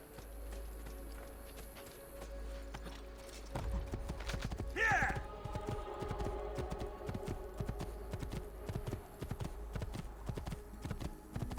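Horse hooves clip-clop in the video game Assassin's Creed 2, a steady rhythmic walking gait under game music and ambience, with a brief whinny-like sound partway through.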